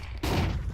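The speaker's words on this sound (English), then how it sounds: "Nice shot from the Deagle, though, from Risky Bob." A Desert Eagle pistol shot in Counter-Strike during a Qatar tournament qualifier: one sharp, loud blast with a short decaying tail, heard in the thick of match noise.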